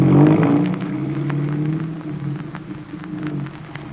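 A car pulls away on a rain-soaked street, its engine rumbling loudly at first and then settling into a steady drone, with a hiss of rain and wet spray running throughout.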